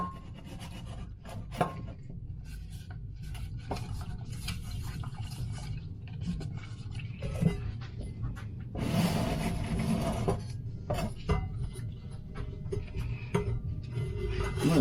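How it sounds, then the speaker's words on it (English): Vintage Revere Ware cookware is sanded with 1500 grit wet/dry sandpaper, working with the grain. Steady, close, rasping strokes rub on and on, with a few louder scrapes. "I'm going to sand with the grain, if you will."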